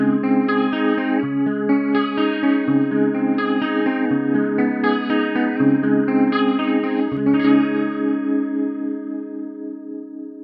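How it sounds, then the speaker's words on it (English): An instrument runs through a Hardwire TR-7 pedal's rotary speaker effect, sustained chords swirling as the sweep moves from slow to fast with increasing depth, loud and alone, fading near the end. "Here's a rotary on a slow sweep. Then moving through to a fast sweep and increased depth."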